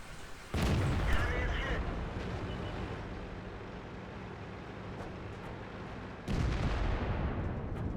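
Two heavy booms from a mid-caliber tank gun in a tank video game, one near the start and one near the end, each a sudden loud blast trailing into a long rumbling decay.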